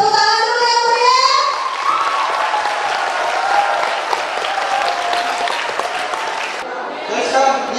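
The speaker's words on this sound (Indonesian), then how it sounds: "tepuk tangan dulu yang meriah" About a thousand university students at a book launch and review give lively, sustained applause, a dense wash of clapping under a speaker's voice at the start and end.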